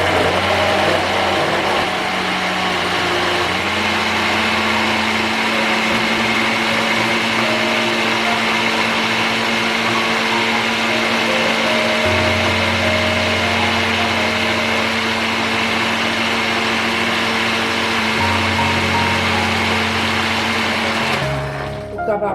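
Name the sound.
blender blending plantain porridge ingredients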